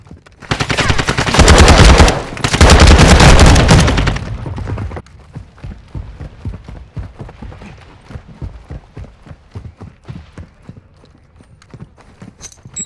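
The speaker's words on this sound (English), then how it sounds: "Taking effective fire!" Gunfire in Call of Duty: Modern Warfare II: a loud, dense burst of rapid automatic shots lasting several seconds, followed by quieter scattered cracks and pops.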